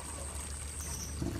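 Water runs steadily into a worm-farming tank where the worms are fed in a flowing stream, making a continuous close trickling wash with no breaks and no talk.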